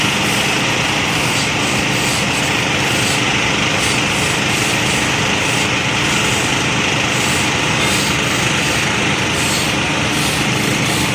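Pressure washer running steadily while high-pressure water flushes a floor, a loud continuous engine-like whine and hiss with dense broadband spray noise throughout, no voices.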